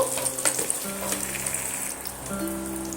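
Small batches of potato pieces frying in a pan of hot oil for aloo katli, a steady close sizzle with a few sharper crackles near the start and no voices.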